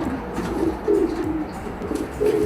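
Pigeons coo in a low, soft series of several rolling phrases from a racing-pigeon fancier's loft, fairly close and steady over a faint background murmur.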